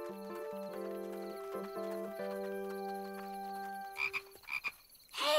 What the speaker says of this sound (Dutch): dat klinkt als een kikker